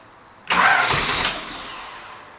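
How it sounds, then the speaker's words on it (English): A 1980s JDM car, long left sitting and hooked to a weak jump pack, cranks with a sudden loud burst of starter whirr that fades off within about a second without catching. "This car's been sitting for ages, so it's a bit hard to start."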